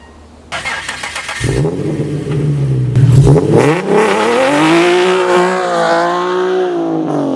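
A Nissan 370Z or 350Z starts, idles briefly, then revs hard and holds a loud rising, wavering engine roar as the clutch drops into a burnout, close and dominant.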